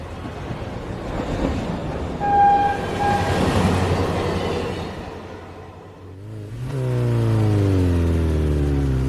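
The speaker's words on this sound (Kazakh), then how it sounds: "Поезд." A cartoon train rumbles past with a loud sustained horn blast near the start, then a steady low chugging drone and a rising second horn-like tone toward the end; close and alone, without speech.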